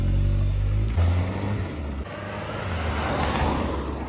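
A road vehicle pulls away as its engine revs up from a low idle into a rising, throaty acceleration, loud and close with no talking.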